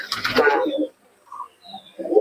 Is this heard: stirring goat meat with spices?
no